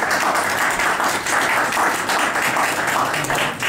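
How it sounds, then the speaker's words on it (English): Audience applause at an award ceremony at ITB Berlin, a dense, steady burst of many hands clapping that fills the whole stretch at fairly loud level, with no talking over it. "worthy of an applause for Mr."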